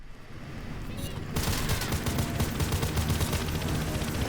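Rapid bursts of gunfire from the PC shooter Wanted: Weapons of Fate fill most of the clip, dense and loud from about a third of the way in, with a voice speaking over the shots.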